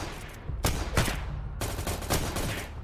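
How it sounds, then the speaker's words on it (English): Gunfire in the Unturned PvP video game, rapid bursts of shots and heavy repeated blasts layered closely together, loud and near, continuing almost without pause. "There's a lot of shooting happening over here."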